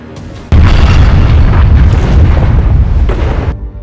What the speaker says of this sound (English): There is an explosion that kills many cannibals and Briggs.